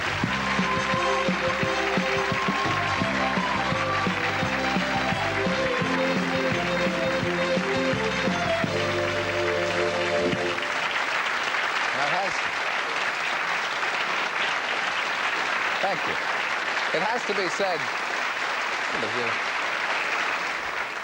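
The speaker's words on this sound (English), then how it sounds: "That's the biggest round of applause anybody's ever gotten this show." Studio audience applause for a presenter on a BBC1 television chat show in 1988, loud sustained clapping over a band playing at first, then the music stops and clapping continues as he speaks briefly over it.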